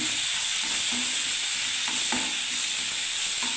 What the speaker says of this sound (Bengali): আমার ছানা ডালনার মশলা যে গ্রেভিটা বানাচ্ছে, দেখুন বন্ধুরা তেল ছাড়ছে এবারে।